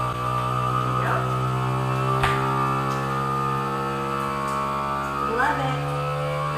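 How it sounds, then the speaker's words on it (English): A FoodSaver vacuum sealer pumps air out of a long bag of leftovers. Its motor gives a steady, fairly loud hum that runs unbroken from start to end, with faint household sounds in the background. "Oh, then you just vacuum seal."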